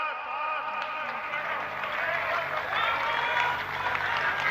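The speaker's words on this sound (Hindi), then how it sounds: "हम सब जोर से तालियों के साथ" Loud applause from a large crowd at a BJP party event, dense and sustained clapping carrying on steadily with voices mixed in.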